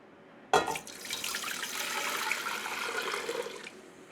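Water pouring into an 8-cup measuring cup: a sudden splash starts the stream, then a steady rushing fill that holds for about three seconds before stopping abruptly.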